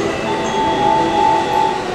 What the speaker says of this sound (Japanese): 4番線臨時列車通過です